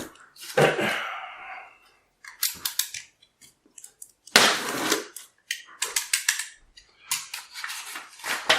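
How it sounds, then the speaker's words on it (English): Sharp crinkling and tearing of a card sleeve being opened on a tarot-size card deck, in several close, uneven bursts separated by brief pauses, with no talking. "Let me open the sleeve here."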